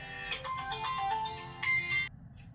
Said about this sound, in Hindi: सॉरी गाइस फ़ोन आ गया था